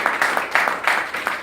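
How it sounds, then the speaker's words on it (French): A church congregation applauds together, steady rhythmic clapping in a dense crowd that carries on without pause. "Est-ce que tu peux applaudir le Seigneur?"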